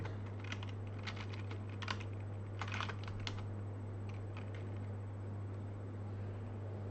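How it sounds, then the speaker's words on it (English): Steady typing on a temporary computer keyboard during a Zig programming session, bursts of quick key clicks at close range over a constant low electrical hum, with no talk. "The keyboard I have is like a temporary keyboard, and it's already like failing me."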